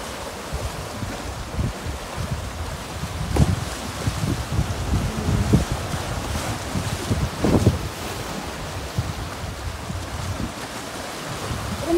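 Sea breeze buffets the microphone while waves wash and break on Ashwood Beach, Bermuda, in a continuous, rolling roar, with stronger surges every few seconds.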